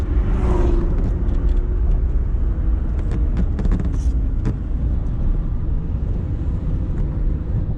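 A Lamborghini Gallardo LP560-4 circles a track through a chicane, its engine a steady loud low roar with wind buffeting throughout and brief higher bursts from the exhaust.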